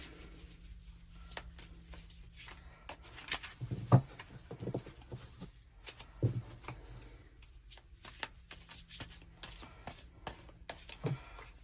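Tarot cards shuffled by hand in a quiet room, a scattered run of soft riffling slaps and flicks with a few sharper taps, close and fairly faint.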